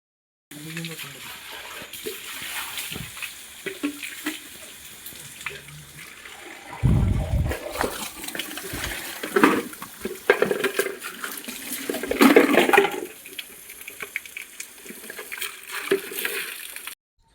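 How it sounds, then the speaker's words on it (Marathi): Water runs and splashes while new plastic poultry feeders and drinkers are rinsed clean at a chicken farm, irregular close splashing and pouring bursts with gurgles, with some talk in the background. "भांडी नवीन असल्यामुळे त्यांना एकदा स्वच्छ धुवून घेतलं"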